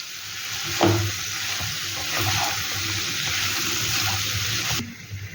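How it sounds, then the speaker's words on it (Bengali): Green jackfruit and potato are stir-fried with sugar in a pan, a steady close sizzle broken by scrapes of stirring, with a brief clatter near the start and a sudden stop just before the end. "চিনি দিয়ে এবার এটাকে আরও ভালো করে কষাতে থাকবো এই সবজিটাকে, এঁচোড় আর আলুটাকে।"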